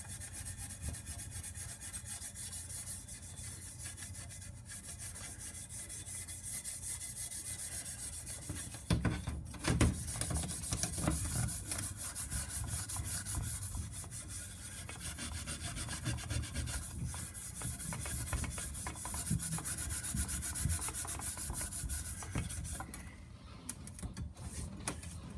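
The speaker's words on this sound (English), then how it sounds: "what you want to do is just wipe the rust away" Surface rust is rubbed off a pipe from a Losi MTXL in a continuous close scraping, with steady back-and-forth friction lasting the whole stretch. The scraping grows a bit rougher partway through and eases near the end.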